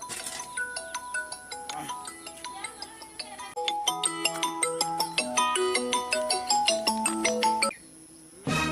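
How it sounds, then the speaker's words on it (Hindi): A melodic electronic phone ringtone plays loudly and steadily, repeating its bright chiming tune before cutting off briefly near the end and resuming. "काकर फोन आती?"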